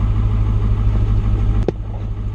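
Diesel pickup truck engine cranking to life, then settling into a steady, loud low idle rumble close by, with a brief sharp burst at the moment it catches.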